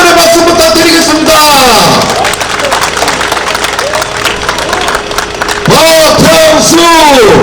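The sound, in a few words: audience applause at a campaign rally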